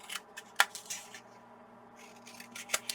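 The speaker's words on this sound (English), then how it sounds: "I'm going to trim all the corners first" Scissors trim paper corners in several short, crisp snips with rustling paper between cuts, heard up close.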